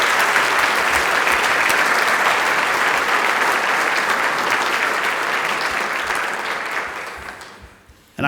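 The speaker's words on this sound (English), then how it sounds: "give her a round of applause for what she's done" A loud, sustained round of applause from a dinner crowd at an annual school district teachers and staff tribute, many hands clapping densely before tapering off near the end.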